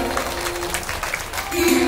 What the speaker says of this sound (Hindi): तो एक बार अपने लिए ताली बजाओ